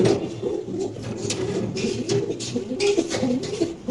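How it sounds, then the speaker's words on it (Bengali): A black Mundian female pigeon coos in low, repeated throaty rumbles, close by, amid the rustle and flutter of other birds in a pigeon farm. "খুবই সুন্দর একটা কালো মুন্ডিয়ান মাদি কবুতর"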